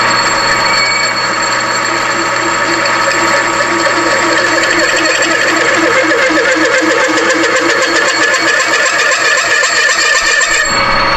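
Metal lathe turning an umbrella stand, with the gib set a little tight near the top of its travel: a loud, steady motor whine and tonal drone with a rhythmic chattering cutting noise, stopping abruptly near the end.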